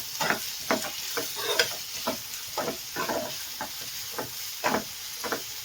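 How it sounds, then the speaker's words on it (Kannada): Onions frying in a pan for chicken sunflower laddu, with a soft sizzle under rhythmic scraping stirs, about two strokes a second, close and moderately loud, no talking. "ಇದನ್ನು ಈಗ ಸ್ವಲ್ಪ ಫ್ರೈ ಮಾಡ್ಕೊಳ್ಳೋಣ"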